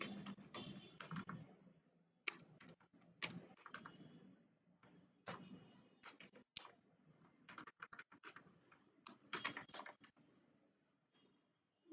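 Keys clack on a computer keyboard in irregular bursts and short runs, near and fairly faint, with pauses between groups of strokes in a quiet room.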